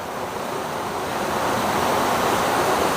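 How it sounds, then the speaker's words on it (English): Water steadily filling and spilling from a tipping water feature in an upscale part of Toronto, a continuous broadband rush that swells slightly louder partway through, with no voices. "It fills up with water and then it tips over."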